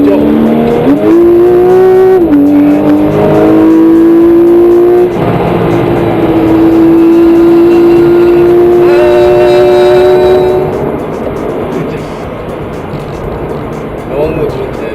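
A Porsche 911 (991) Carrera S engine revs up and holds a steady high note, its pitch rising then settling before falling away, loud and close, with talking over it.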